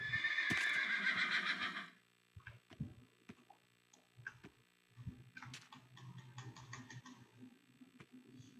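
Horse whinnying loudly in a video game, followed by scattered clip-clop hoof steps and small game sounds, close and with no talking.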